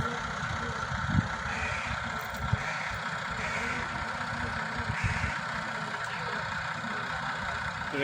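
A damaged tractor's engine hums low and steady at a distance in a flood-hit village, a continuous faint rumble with a few small knocks.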